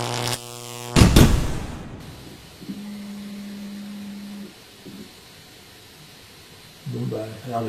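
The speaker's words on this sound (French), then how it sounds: "Bon, au moins la pompe elle marche." A KTM 1190 sport motorcycle's fuel pump primes during a home repair with a steady, fairly faint electric whir lasting a couple of seconds, set between a sharp clatter and brief stretches of nearby talk.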